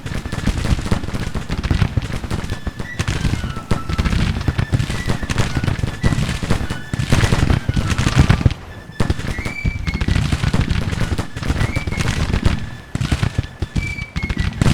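Civil War artillery in the Grand Tactician strategy game, rapid loud cannon and musket-like blasts crackling continuously in dense volleys, with brief lulls between bursts.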